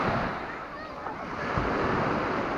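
Sea waves wash onto a resort beach at Platamon, Greece, a continuous close rushing surf with wind noise, while someone talks over it.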